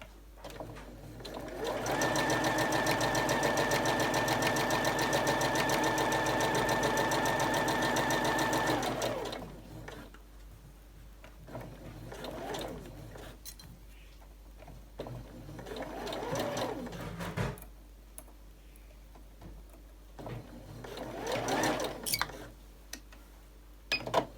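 A sewing machine runs with no top thread, giving a steady, loud mechanical whir for about seven seconds before stopping, followed by quieter handling noises and a few faint, short bursts.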